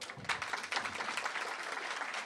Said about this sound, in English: He clapped for himself too.